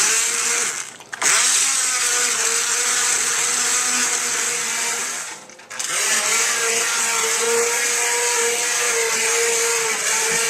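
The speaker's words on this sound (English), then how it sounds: "Just take my little blender, put it in the liquid before you turn it on" A steady high motor whir of an immersion blender blending roasted tomato soup runs continuously, dipping briefly twice as it pauses, with a churning liquid texture underneath.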